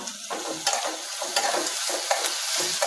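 Tomatoes frying with onion and garlic for kulambu: a continuous close sizzle, broken by scraping strokes of a spoon stirring through the pan at irregular intervals.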